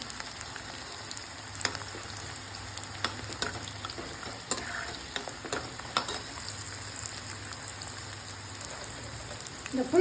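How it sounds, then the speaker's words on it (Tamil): Garlic frying in a pan with sun-dried mango pieces for a pepper kuzhambu, a steady close crackling sizzle with occasional stirring scrapes, no talking. "இந்த பூண்டை போட்டு ஒரு வதக்கு வதக்கணும்"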